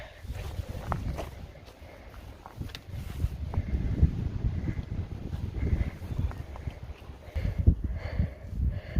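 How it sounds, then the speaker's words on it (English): Gusty wind buffeting outdoors in a snowy forest on Roan Mountain along the Appalachian Trail, rising and falling in waves with low rumbling bursts and faint rustling. "It's pretty and it's windy."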